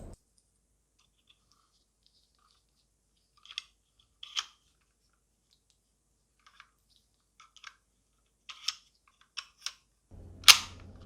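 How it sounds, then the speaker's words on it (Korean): Metal cylinder of a life-size revolver-shaped pistol lighter, a toy Magnum replica loaded with metal dummy rounds, being rotated stiffly, giving scattered faint mechanical clicks and ratchets in near silence, with a sharper louder click near the end. "이 실린더 회전이 이렇게 안 됐다가 뭐 됐다 하는 것 같아요"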